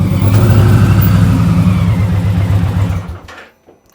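A motorcycle engine revs loud and close as the bike climbs a ramp onto a trailer, a rough throbbing drone that holds for a few seconds, then cuts off abruptly into near silence.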